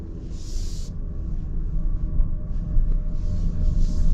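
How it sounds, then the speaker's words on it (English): A 2025 Toyota Prius XLE AWD hybrid driving in EV mode gives a steady low rumble of road and drivetrain noise with a faint high whir above it, continuous and fairly quiet, with no talking. "it's in EV mode right now. You can hear the little like whirring sound"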